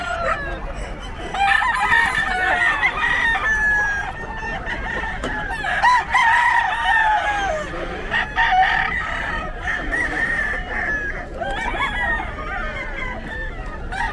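Albany gamecocks crowing at the Bocaue public market, several long, loud, quavering crows following one another amid clucking and a busy background with occasional voices.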